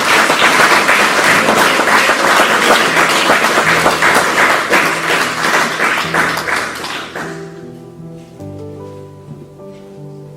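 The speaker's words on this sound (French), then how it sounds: "Acclame le Seigneur Jésus-Christ." A church congregation applauds in a large hall, dense loud clapping that carries for about seven seconds, then fades quickly as sustained musical tones take over.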